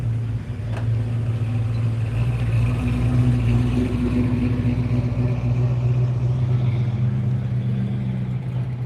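Vintage cars roll into an outdoor car show, a steady low engine rumble continuing throughout, fairly loud and near, with no talking.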